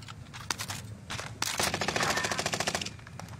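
Video game gunfire in an online shooter, rapid automatic bursts with a few single shots before a sustained rattling volley, fairly close and loud, no talking over it.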